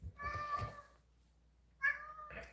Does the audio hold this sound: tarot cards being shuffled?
no